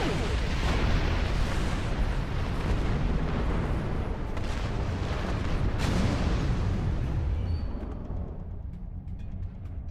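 Torpedo fire and explosions in Star Trek Online, a loud sustained rumble of booming blasts with a sharp burst near the middle, fading toward the end.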